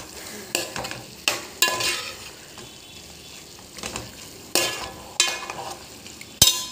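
Curry stirred in a pan with a spoon, a series of sharp scraping and clinking strokes at irregular intervals over a quiet sizzle, close and fairly loud.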